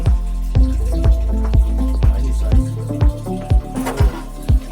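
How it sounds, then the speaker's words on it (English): Water drains from a hot water tank during a water heater replacement, a steady run of rhythmic drips and splashes repeating roughly twice a second, close and fairly loud with a low resonant undertone. "The tank is still draining."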